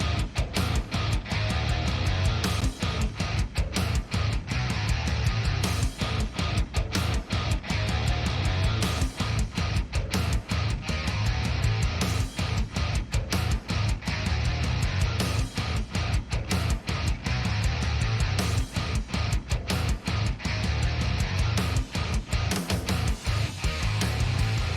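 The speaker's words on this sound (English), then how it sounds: "So if you listen to my bus processing off and on, it'll sound like this." A loud, dense metal guitar mix plays continuously with heavy palm-muted chugs and staccato stops while its bus processing is switched off and back on.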